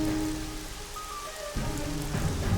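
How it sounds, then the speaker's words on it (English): Rain falls steadily in the video game Jagged Alliance 2, a dense continuous patter over a low background tone, moderately loud with no voices. "Oh, it's raining."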